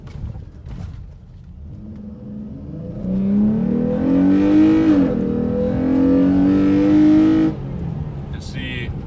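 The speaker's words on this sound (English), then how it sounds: "I'm just feathering this gas pedal, like I'm barely touching it" A car engine with a Pedal Commander throttle controller revs as the gas pedal is feathered in drive, a close, steady rise to a sustained, slightly wavering drone that drops back after several seconds, with talking underneath.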